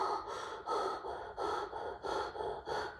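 A voice imitates heavy, menacing breathing like that of Michael Myers in Halloween (1978): slow, rasping in-and-out breaths repeated in an even rhythm, close and alone.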